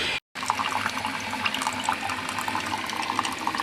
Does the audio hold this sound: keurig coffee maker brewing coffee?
yes